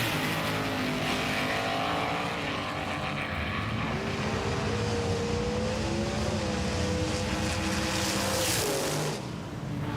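Race cars, including a Holden, roar around turn 1 at a racing event, engines loud and continuous with rising and falling pitch as they accelerate through the corner.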